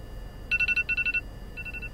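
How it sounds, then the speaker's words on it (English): A phone rings outdoors by Lake Michigan at Blue Harbor in Sheboygan, Wisconsin: two quick bursts of rapid electronic trilling tones, then a shorter, fainter burst, with no talking. "Uh-oh, got a phone call."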